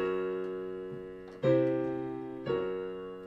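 Sustained piano-like chords moving upward by tritone root motion, three struck chords in turn, each ringing and slowly decaying before the next, played alone with no talking.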